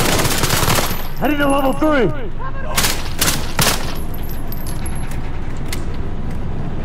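Bursts of MP7 submachine gun fire in Call of Duty Modern Warfare crackle close and rapid, mixed with game effects, metallic tinkling chimes and a voice announcing progress.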